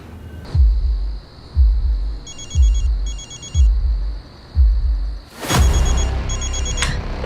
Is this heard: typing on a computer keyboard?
no